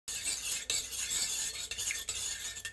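A spoon stirs onions and cubed steak around inside a crock pot, with a steady scraping and clinking that runs close and continuous.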